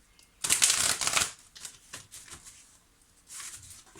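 Tarot cards are shuffled by hand until one card jumps out, a close papery riffle that starts with a loud burst and then breaks into softer, uneven flicks and slides, with no voices.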